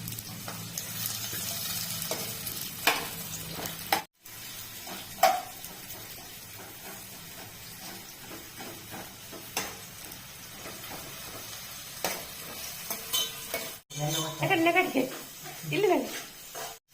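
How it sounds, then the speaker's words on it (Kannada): Onions fry with pepper in a hot pan, a continuous soft sizzle with occasional stirring scrapes, while someone talks over it and a short burst of voice comes near the end. "ಪೆಪ್ಪರ್ ಇಲ್ಲಿ ಸ್ವಲ್ಪ ಕಾದ ನಂತರ ಇಲ್ಲಿ ಈರುಳ್ಳಿಯನ್ನು ಕೂಡ ಹಾಕ್ತಾ ಇದ್ದಾರೆ. ಈರುಳ್ಳಿಯನ್ನು ಕೂಡ ಫ್ರೈ ಮಾಡಿಕೊಳ್ಬೇಕು."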